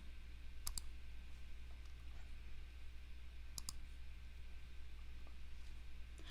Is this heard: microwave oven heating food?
no